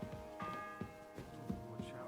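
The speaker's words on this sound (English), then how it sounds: "What bell is that? The second toll for Hans." A church bell tolls faintly in the video game Kingdom Come Deliverance 2, with soft, ringing strikes heard beneath light in-game ambience and a person talking.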